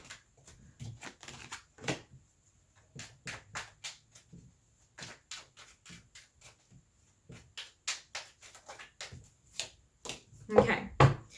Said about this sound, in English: let's pull 3 cards to close out your reading